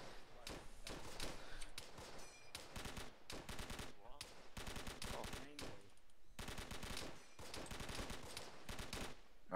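Sustained World War II video game gunfire: rapid automatic bursts and single loud shots in dense clusters separated by short pauses, close and sharp throughout.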